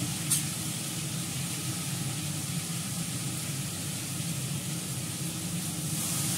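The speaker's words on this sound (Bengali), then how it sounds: "সামান্য একটু জল দিই, তলে আলুটা সেদ্ধ হয়ে যাবে" Potatoes frying in a pan give off a steady, even sizzle after a little water is added, a constant hiss holding at one level throughout with no voices.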